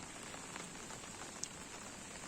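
Steady rain falls in a rural village hamlet on a rainy night, a soft continuous hiss with a few louder drips standing out, no voices.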